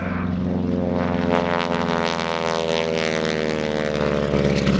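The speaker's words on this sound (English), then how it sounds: "You gonna make the propeller growl?" A propeller airplane at the NAS Oceana airshow growls loudly and steadily, a deep droning engine with a rasping buzz from the prop, close and constant throughout.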